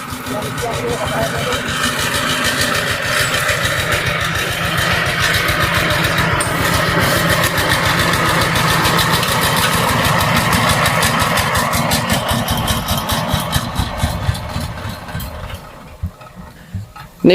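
A vehicle's engine drives a water pump for drip irrigation on a watermelon field, idling steadily with a low, throbbing rumble that runs close and continuous throughout, while people talk over it.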